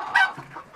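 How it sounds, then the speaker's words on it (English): A Sebright rooster gives a brief, close cluck with a sharper accent near the start, set against a faint background of farm noise. "here's a sea bright rooster."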